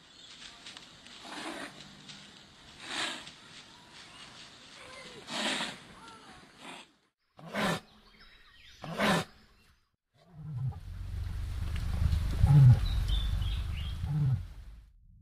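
Deep booming rumbles and low roaring calls from a cassowary, the large flightless bird, come in several separated bursts that build to a sustained loud, low drone near the end.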